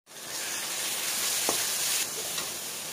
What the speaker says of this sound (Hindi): अब मैं इसको जल्दी से डाल के इसको भून लेती हूँ